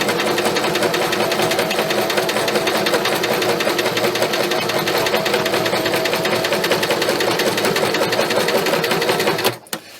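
Steady, rapid mechanical whirr of a sewing machine running continuously while stitching chenille fabric with a quilting foot, stopping abruptly near the end.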